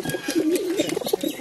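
Pigeons eating rice coo close by in soft, rolling low calls, repeated steadily through the short stretch with a few brief higher chirps.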